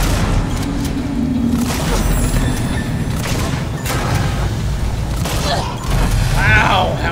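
A shotgun fires in Alien Isolation, with several heavy booms and mechanical pump clacks spaced through the clip amid game noise, while someone talks over it.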